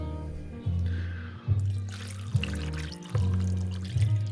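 Water pours steadily into an instant chicken pho noodle bowl holding meat for a few seconds, a continuous close splashing stream with slight surges.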